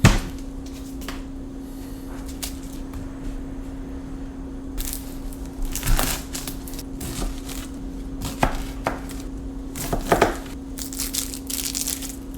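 A knife chops an onion on a board in scattered sharp cuts, some single and some in quick clusters, close and moderately loud over a steady low hum.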